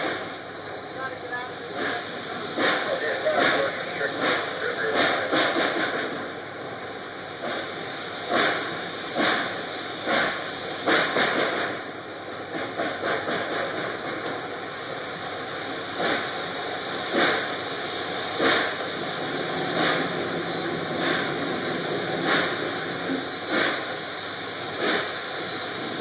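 Reading & Northern 2102 steam locomotive hisses steadily from inside the cab, a broad continuous hiss with rhythmic chuffing pulses over it, and a voice talks at times.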